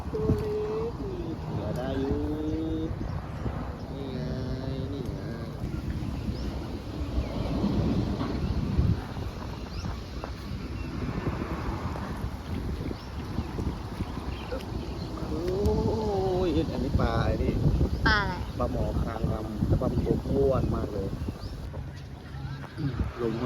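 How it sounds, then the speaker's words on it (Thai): Cold winter morning wind gusts outdoors beside a canal while fishing, rumbling against the microphone throughout as a steady blustery roar, with someone talking over it much of the time. "ลมพัดแต่ว่าเย็นดีครับ"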